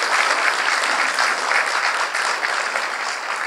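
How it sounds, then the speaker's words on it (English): Audience applause at a KOICA-JICA forum, a steady even wash of many hands clapping together, fairly close and sustained throughout. "let's make a big applause to the staff members."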